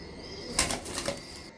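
A Budapest grizzle pigeon beats its wings in a short, loud flurry of flapping lasting about a second, close by, with no voices.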